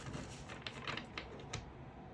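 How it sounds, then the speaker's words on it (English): An oracle card deck being shuffled close up, a quiet run of soft papery flicks and taps in an uneven patter, heard alone without talking. "I'm shuffling another oracle deck"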